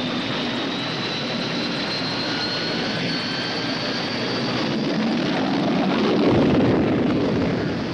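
An A-4G Skyhawk jet aircraft of the Royal Australian Navy Fleet Air Arm flies past, a loud continuous engine roar with a thin whine that swells slightly toward the end.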